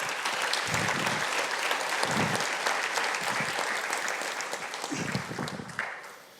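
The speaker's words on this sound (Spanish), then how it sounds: "Oh, dale un aplauso al Señor, ¿no?" A church congregation applauds, dense sustained clapping filling the room, steady and loud before tapering off at the end.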